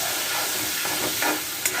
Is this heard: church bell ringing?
no